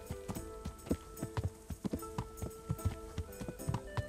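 Horse hooves clop in a quick, steady rhythm in the video game Kingdom Come: Deliverance, crisp and fairly close, with a faint tonal background underneath.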